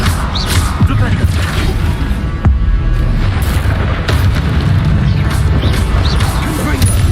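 Flipendo knockback spell cast in Hogwarts Legacy, a booming magical impact with crashing bursts over loud game combat noise and voices, several heavy thuds spread across the stretch.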